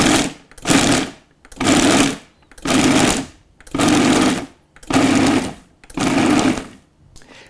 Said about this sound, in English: we are going to pulse this for about a minute or so until we get a coarse sort of meal